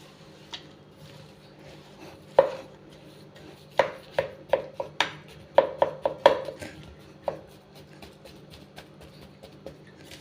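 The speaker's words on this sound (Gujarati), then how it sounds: "આ રીતે સારી રીતે હલાવીને મિક્સ કરી લઈશું" Mango pieces for pickle being stirred and mixed in a bowl, producing a run of sharp, irregular knocks and clacks that cluster in the middle, close and distinct over a faint hum.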